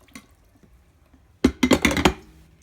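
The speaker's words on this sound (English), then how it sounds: "pour the fresh cold water in." Fresh cold water poured into a drip coffee maker's reservoir during cleaning, a short splashing burst of about half a second after near silence, close and fairly loud.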